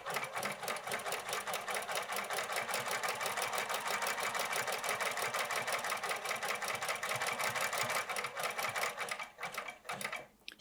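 A sewing machine stitches the hem of jeans in a fast, steady mechanical chatter that runs continuously before slowing and stopping near the end.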